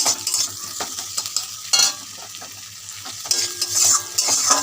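Okra coated in gram flour stir-fries in oil over a low flame, close crackling sizzle punctuated by repeated scraping strokes of a spatula against the pan in an uneven rhythm.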